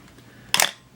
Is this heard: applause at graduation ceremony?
no